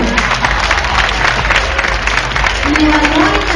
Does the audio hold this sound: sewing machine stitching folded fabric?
no